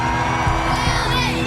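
A crowd of race fans at a motor racing event cheers and screams continuously, a loud, dense roar with whoops rising from within it.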